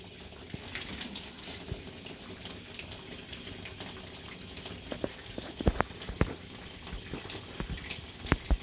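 Water gushes and splashes out of an aqua bag being emptied, a continuous watery rush with sharp bursts and slaps growing louder toward the end.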